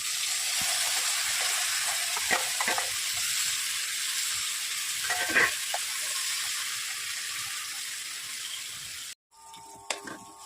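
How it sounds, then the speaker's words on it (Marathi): Chopped onion and tomato sauté in a hot pan for a masala toast filling, giving a steady, even sizzle with faint stirring scrapes, then an abrupt cut to quieter clinking. "कांदा परतून हे टॅमॅटो परतून घेते छान."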